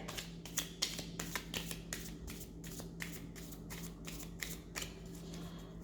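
A deck of playing cards being shuffled in quick, repeated riffles, each crisp flutter followed by short pauses, fairly quiet and close over a steady low hum.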